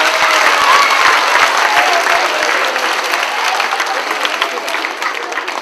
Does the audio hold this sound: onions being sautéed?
no